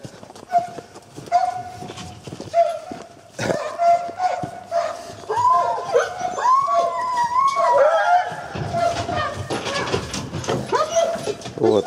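Laika hunting dogs whine and yelp during duck-hunting season, giving repeated high, wavering cries of varying length close by, with some rustling and handling noise between them.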